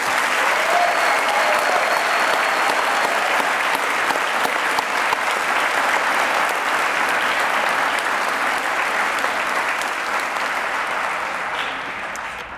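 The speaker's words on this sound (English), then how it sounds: "Let's give our academic achievers one more huge round of applause," A school auditorium audience gives a dense, sustained round of applause for Waco High academic achievers, loud and even for about twelve seconds before tapering slightly at the end.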